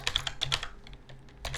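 Fast typing on a computer keyboard while setting up Ubuntu 16.04 in a VirtualBox virtual machine: close, crisp key clicks in quick bursts with a short lull in the middle, no speech.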